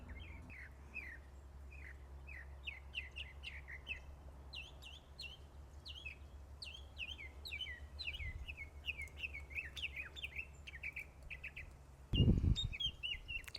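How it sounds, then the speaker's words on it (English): A mockingbird sings outdoors at a distance, a long run of quick, varied chirps and trills that keeps going over a low steady hum, with a brief thump near the end. "that beautiful bird in the background is a mockingbird"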